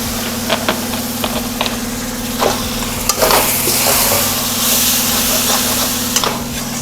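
Water splashes into a hot kadai of frying potatoes and spices, giving a steady sizzle and hiss with occasional stirring scrapes and clinks, close and moderately loud, no talking.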